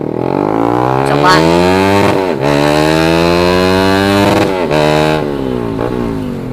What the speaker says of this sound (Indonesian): Bikin tetangga marah ini knalpot.